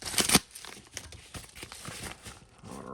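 A knife slices open a package: a sharp, loud tearing crinkle opens the clip, followed by softer scattered rustling and scraping.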